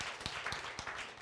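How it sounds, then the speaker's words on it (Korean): A church lecture audience claps briefly, producing a short burst of light, scattered applause with a few distinct hand claps over about a second. "박수."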